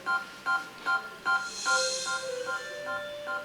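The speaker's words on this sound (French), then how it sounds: "Ça c'est normal, c'est le bruit du vaisseau" A spaceship in Kirby's Dream Land Wii gives off a run of evenly spaced electronic beeping tones, clear and moderately loud, and the pattern shifts midway.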